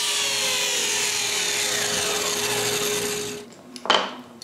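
A table saw cuts through a wooden block, giving a steady, loud broadband whine and rasp that runs for several seconds and then stops abruptly, followed by a short clunk or thud.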